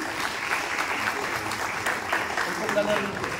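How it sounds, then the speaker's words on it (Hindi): Applause fills a hall at a school annual day celebration in Renusagar, a steady wash of clapping from the crowd with a voice speaking faintly over it. "तो अरविंद के लिए भी जोरदार ताली बजे"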